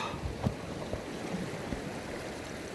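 Ocean waves and water wash steadily along a shoreline at night, a continuous broad rushing hiss with small surges, moderately loud and unbroken, with no talking.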